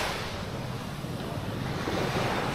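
Sea waves wash at the shore in a steady, broad rush mixed with wind buffeting the microphone, continuous and moderately loud with no voices.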